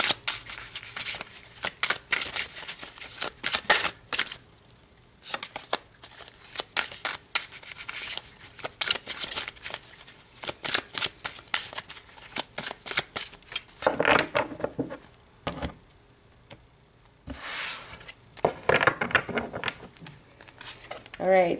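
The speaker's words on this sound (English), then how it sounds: "So let's pull some tarot." Tarot cards being shuffled by hand in a long stretch of fast riffling, papery flutters and cuts in bursts with brief pauses, close and fairly loud, with a voice talking at times.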